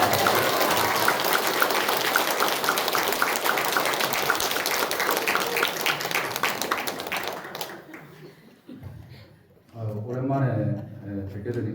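A church congregation applauds in a dense, sustained burst of clapping for several seconds that fades out, then a voice begins speaking over the room.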